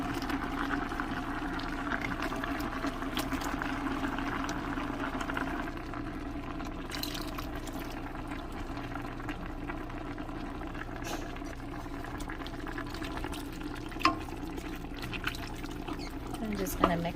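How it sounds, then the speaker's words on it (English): Stewed tomatoes slosh into a pot of chicken zucchini stew, a soft continuous liquid pour and bubbling beneath a steady talking voice, with a faint clink near the end. "I'm also at this point going to add my stewed tomatoes in here."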